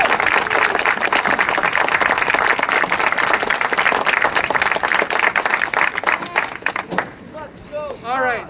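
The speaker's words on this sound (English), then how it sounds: "Can you give them a nice round of applause?" An audience applauds at a middle school spring concert band performance, with loud, sustained clapping and crowd murmur that fades out as a speaker begins talking at the end.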